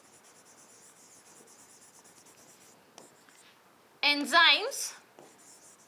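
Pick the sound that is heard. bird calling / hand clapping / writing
writing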